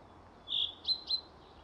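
A bird in the game Sally Face gives three short, high chirps: one drawn-out note, then two quick tweets, clear and isolated against a faint, quiet background.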